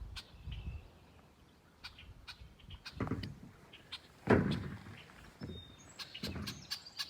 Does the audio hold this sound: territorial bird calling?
yes